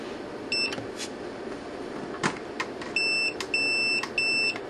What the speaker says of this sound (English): Continuity test still works.